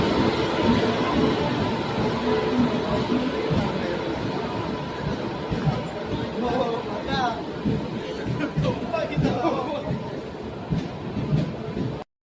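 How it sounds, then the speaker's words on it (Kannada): A train arrives at a railway platform on New Year's Eve, a low continuous rumble with occasional squeals running under busy crowd chatter and people talking nearby. "ಬಂತು ನಮ್ಮ ಟ್ರೈನು."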